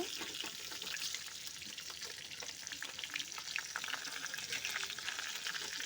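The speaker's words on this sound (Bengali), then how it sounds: "দেখো মাছটা ভাজা হয়ে গেছে, আমি তুলে নেব।" Fish frying in a pan gives a steady, close crackling sizzle that holds throughout, with no voices.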